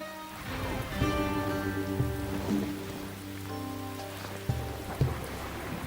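Steady rain patters in the Echoes of Mystralia fantasy game, a soft, continuous hiss under sustained musical tones, with a few brighter accents near the end.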